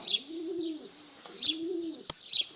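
Pigeons in a rooftop dovecote in the Altai countryside give repeated soft, rolling coos, three low phrases in a steady rhythm, close and clear, with faint chirps mixed in and no talk.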